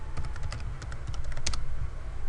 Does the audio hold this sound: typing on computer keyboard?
yes